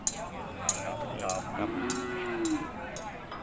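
Cattle at a livestock market moo: a drawn-out low moo rising toward the end, with a shorter lower call earlier, amid faint market background noise and occasional light knocks, fairly close and clear.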